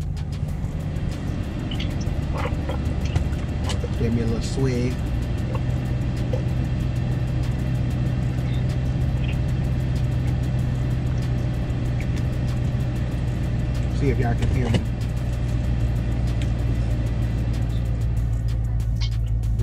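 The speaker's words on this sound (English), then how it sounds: "I'm going to turn the car back on." A steady low engine idle rumbles throughout, with a brief voice and some handling noises near the start.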